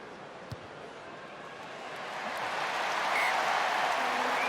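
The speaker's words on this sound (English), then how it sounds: "Applause beginning before it sailed through" Stadium crowd at a Wales v Argentina rugby match breaks into applause for Anscombe's kick at goal, a broad wash of clapping and noise that swells steadily over a few seconds and stays loud at the end.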